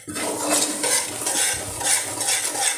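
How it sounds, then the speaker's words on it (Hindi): Semolina (suji) being stirred in a pan for panjiri: a steady scraping and rustling of spoon against metal, continuous and close, with a faint sizzle underneath and no voices. "इसको हला, जितना अच्छी तरह हलाएंगे उतनी अच्छी सूजी आपकी तैयार होगी"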